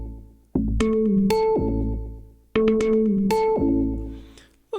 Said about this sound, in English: if we go into the ARP sequence, I've just loaded up one of the presets, Bassline Simple